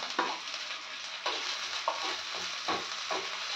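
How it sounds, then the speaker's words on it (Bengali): Ginger and garlic fry with browned onions in a pan, a steady close sizzle punctuated by repeated stirring scrapes every second or so. "আবারও ভালো করে একটু ভেজে নেব।"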